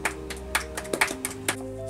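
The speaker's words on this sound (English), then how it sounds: "Clap!" A single hand clap from the show Helga's Workshop, episode "Rise of Temau", among several sharp taps over a steady hum of background tones, with a few brief percussive hits spread across the short stretch.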